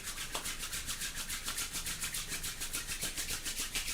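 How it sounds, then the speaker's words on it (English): Two hands rubbing briskly together during a morning movement routine, a soft, rhythmic swishing friction repeated steadily about four times per second, close and quiet with no speech. "Give your hands a bit of a rub together."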